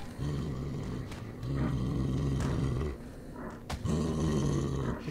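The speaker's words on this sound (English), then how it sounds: "The growls are so disconcerting!" A creature in the video game Metro 2033 growls in deep, rumbling waves, three long snarling bursts separated by brief dips, loud and close against a dark ambient background.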